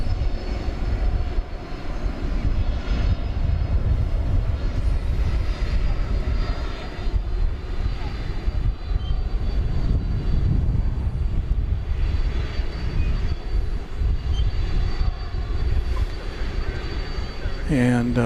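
A jet airliner on flight 61 to Narita rumbles on the ground at DFW Airport, a steady loud engine roar lasting the whole stretch, with faint talk at times.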